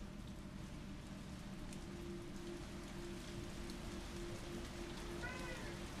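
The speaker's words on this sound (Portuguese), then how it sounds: "A chuvarada." Heavy rain in the video game Resident Evil 3, a dense, constant hiss of downpour on surfaces at a steady level with a low sustained hum beneath and no speech.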